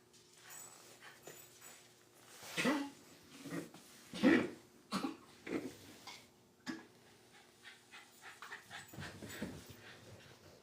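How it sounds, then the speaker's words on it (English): An Aussiedoodle-type Aussie Poo dog pants close by in uneven bursts, with a few louder huffs and coughing breaths, and no talking. "I see an Aussie Poo."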